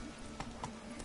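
A horse gallops in The Witcher 3, its hoofbeats a soft, quick clip-clop under a steady background of game music and ambience over about a second.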